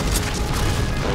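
Grenade blast in the shooter game Wolfenstein: Youngblood, a loud, dense low rumble sustained through the whole short moment with no clear onset or talking.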